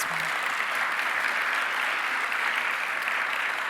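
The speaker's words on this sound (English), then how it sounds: "let's give them another round of applause" Sustained audience applause at an awards ceremony, a steady dense wash of clapping from a large crowd that holds evenly throughout with no talk over it.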